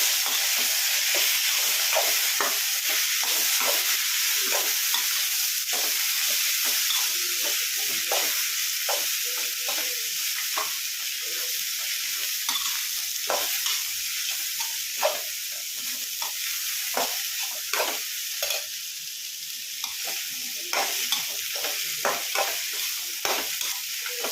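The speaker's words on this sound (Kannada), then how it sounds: "ಟೊಮೊಟೊ ಎರಡು ಇದನ್ನ ಹಾಕ್ತೀನಿ ಫ್ರೈ ಮಾಡ್ತೀನಿ" Tomatoes for hotel-style keema sambar fry in a hot pan with a steady broadband sizzle and hiss, while scraping stir strokes come through at close range throughout, uneven and repeated.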